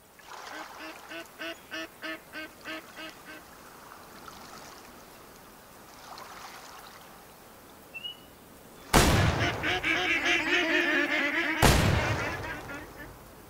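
Ducks in the hunting video game Way of the Hunter quack in a rapid repeated run, followed by two loud shotgun blasts with lingering echoes and further quacking amid outdoor ambience.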